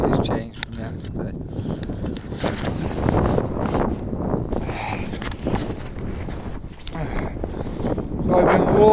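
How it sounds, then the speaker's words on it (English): A strong headwind buffets the microphone of a cyclist touring in China, a loud, continuous gusty rumble with some clattering, and a voice is heard over it. "That headwind is still there. It's pretty strong as well."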